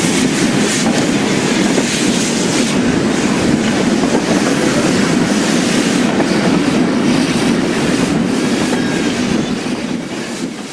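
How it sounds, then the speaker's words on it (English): A steam locomotive works along an industrial railway in Wales near exchange sidings and a weighbridge, producing a loud, close, continuous roar of exhaust and rolling wheels that holds steady before easing slightly at the end. "Here it is again, just north of the exchange sidings, passing the weighbridge en route to Graig Merthyr."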